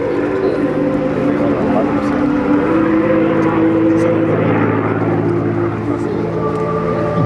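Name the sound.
P-51 Mustang airplane engine in flight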